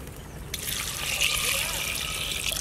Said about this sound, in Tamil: இந்த சொம்பல ஒரு சொம்பு தண்ணி ஊத்திடலாம்